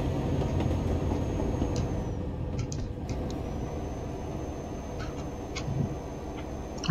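A slow train rumbles past in Euro Truck Simulator 2, a continuous low rolling drone with faint clicks and ticks scattered over it and a thin high whine.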